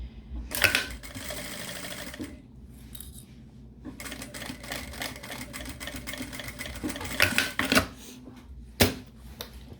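A domestic sewing machine stitching a zippered accordion wallet: bursts of rapid mechanical needle clatter, close and fairly loud, broken by short pauses and sharp handling clicks and knocks as the fabric is shifted.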